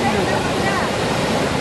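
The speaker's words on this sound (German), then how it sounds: "Pro Sekunde schießt hier eine Wassermenge von 1750 Kubikmetern in die Tiefen." Roar of Iguazu Falls, a massive waterfall dropping up to 82 metres, as a dense, continuous rushing wash that fills the clip, loud and steady with no pauses.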